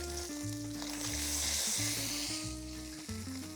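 Celery cut on the diagonal and carrots sizzle in a pan with a continuous, even hiss and light stirring, heard close under steady background music.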